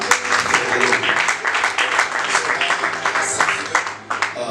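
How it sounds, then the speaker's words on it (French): A congregation at a church service in Cape Town claps and applauds, loud and continuous, with dense overlapping claps and voices mixed into the sound throughout. "Can we clap?"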